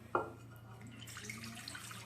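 Four cups of water pour from a measuring cup into a pot: a quick splash at the start, then a faint, soft trickle in a quiet kitchen.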